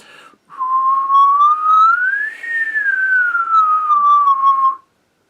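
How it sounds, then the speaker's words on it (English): A single sustained whistled tone glides slowly up and then back down in pitch, clear and close, played as a trumpet air-pattern warm-up, preceded by a brief breathy onset. "You can also try whistling if you're able to whistle."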